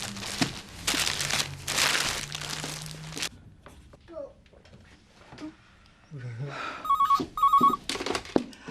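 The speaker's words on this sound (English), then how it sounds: "I'll phone Lisa" A telephone rings in a domestic or shop setting, a repeated bright double trill near the end of the clip, after a stretch of loud rustling and scattered movement noises.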